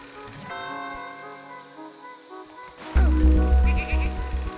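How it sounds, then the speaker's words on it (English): Sheep bleat loudly in a meadow in the game Superbrothers: Sword & Sworcery EP, several cries in a row following a quieter stretch of tonal background music. "We spied a few worthless sheep lazing around the meadow."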